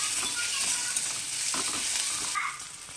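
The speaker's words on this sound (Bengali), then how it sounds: "প্রথমে কাঁচা লঙ্কা, শুকনো লঙ্কা আর পেঁয়াজটা দিয়ে একটু ভেজে নেব।" Green chillies, dried chillies and onion with a little salt fry in a pan, a steady close sizzle broken by several scraping stirs, easing slightly at the end.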